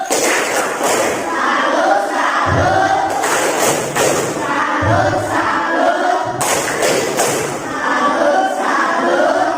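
A fifth-grade class does a rhythmic salute clap together, with loud patterned clapping, heavy thuds and children's shouted voices in a lively, close crowd.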